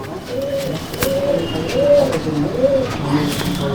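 Pigeons coo in a loft, a series of four or five rolling, rounded coos close to the microphone over faint background noise and occasional clicks.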